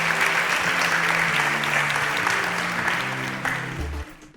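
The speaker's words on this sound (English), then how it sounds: "A round of applause for them as they exit the stage." Audience applause fills a game-show studio as contestants leave the stage, steady and dense throughout, with sustained low musical tones underneath and the clapping thinning slightly toward the end.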